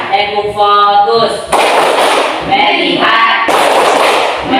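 Children in a classroom clapping hands in rhythm during a focus game, two loud rounds of clapping bursts separated by chanted group voices, close and reverberant.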